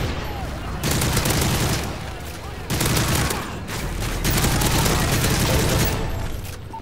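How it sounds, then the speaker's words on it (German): Turret gun firing in Call of Duty MW3 Survival mode, sustained loud automatic bursts in several long stretches with brief gaps, dense and close amid game noise. "das Geschütz hört man"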